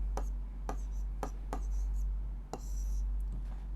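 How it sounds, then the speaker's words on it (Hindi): Pen strokes as an answer is written by hand for a Class 8 Sanskrit lesson, heard as a few distinct scratching taps spaced about half a second apart over a steady low hum, with a voice speaking softly at moments. "तो हम इसका उत्तर इस प्रकार लिखेंगे"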